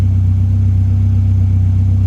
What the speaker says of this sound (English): You can't beat a Cosy idling on the drive,